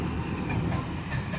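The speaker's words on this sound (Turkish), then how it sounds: "Bu tren sadece yük taşıyor." A steady low rumble and rushing roar of a freight train rolling past nearby, loud and unbroken, with faint rattling over it.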